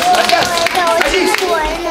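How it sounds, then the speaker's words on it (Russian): A children's audience at a magic show claps in a brief, uneven burst while a presenter keeps talking over it. "Аплодисменты ему."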